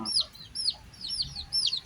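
Bantam chicks about ten days old cheep in quick high chirps, several short calls repeated at intervals, fairly faint over quiet background.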